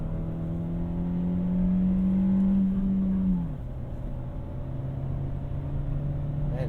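A 2021 VW Golf MK7 with a turbo engine and six-speed manual gearbox drones steadily under load from inside the cabin. The engine note climbs gently, then drops at a gear change and settles into a lower, even hum.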